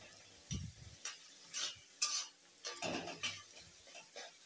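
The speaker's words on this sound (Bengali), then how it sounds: "আর এখন এগুলাকে কষিয়ে নেব ভালো করে" Potatoes stir-fried with spices in a home kitchen pan, giving repeated scraping and stirring clatters of a utensil against metal in short uneven bursts, with a faint sizzle underneath and no talking.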